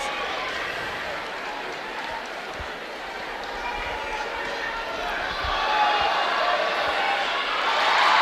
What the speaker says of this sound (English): the Michigan State crowd that traveled here from East Lansing is also on their feet, cheering on their Spartans